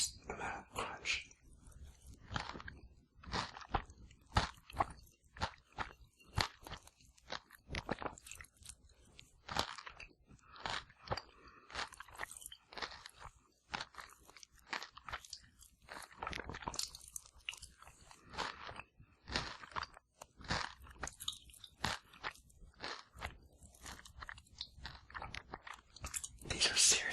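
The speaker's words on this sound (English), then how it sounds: "said these will have quite a nice amount of crunch." Close, crisp crunching and chewing of rice chips in a quiet room, many irregular bites and chews in steady succession with soft whispering at times.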